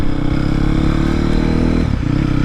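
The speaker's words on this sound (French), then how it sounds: "même si c'est un enduro, je me suis dit je vais aller sur la route pour tourner la vidéo" An enduro motorcycle rides along a road, its engine a loud, steady mid-pitched drone close by that dips briefly near the end before holding on.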